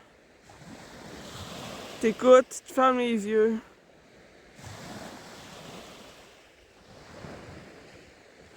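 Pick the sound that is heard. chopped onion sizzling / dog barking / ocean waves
ocean waves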